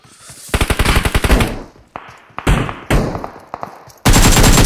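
PUBG Mobile gunfire: rapid automatic bursts, then single heavy shots with short gaps, and at the end a dense, sustained roar of fire, all loud and close.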